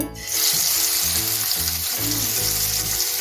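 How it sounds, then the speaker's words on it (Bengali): Prawns fry in hot white oil in a non-stick pan, giving a loud, close, continuous sizzle with a steady hiss and faint bubbling throughout, with no voices. "এখন আমি নন স্টিক প্যানে সাদা তেল দিয়ে গরম করে নিয়েছি এখন আমি মাছটা ভেজে নেব"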